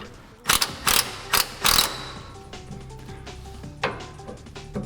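Impact wrench tightening a lower front brace bolt on a Volkswagen MK6 GTI: four loud, rapid hammering bursts in a row, followed by quieter metallic clinks and clattering of tools nearby.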